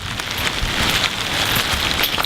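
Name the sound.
heavy rain pouring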